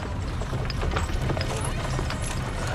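Horse-drawn wagon caravan heading west in 1846, a dense busy layer of hooves clip-clopping with rattling and creaking over a low rumble, steady and fairly loud throughout.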